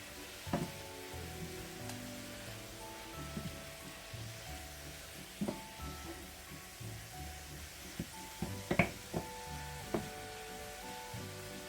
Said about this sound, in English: Get all that mixed in.